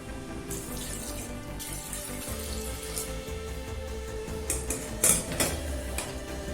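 Water poured from a tap or vessel into a pressure cooker holding carrots for carrot payasam, a continuous close splashing trickle with a few louder gushes and clanks near the end.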